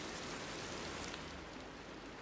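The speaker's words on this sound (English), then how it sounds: "because it's raining" Rain falls steadily outside at night, a soft, even hiss of drops on surfaces, faint and continuous with no voices.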